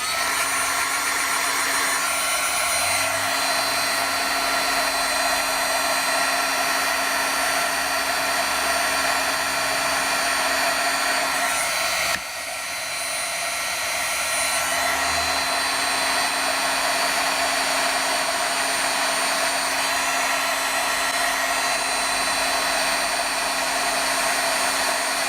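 A heat tool for melting clear embossing powder on a rubber-stamped craft piece blows in one loud, constant whirring roar, pausing for a moment about halfway through before running on steadily with no speech.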